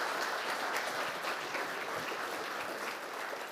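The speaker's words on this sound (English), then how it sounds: "Let's have a applause for Brian." Audience applause after a plenary session talk by Brian Cullis: a dense, steady patter of clapping from a room of listeners, moderately faint and continuous for a few seconds.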